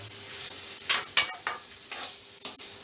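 Boiled tapioca with spices is mixed in a pan: a soft sizzle runs underneath while several distinct scraping stirs, roughly five, rasp against the pan at uneven intervals, close and clear with no talking.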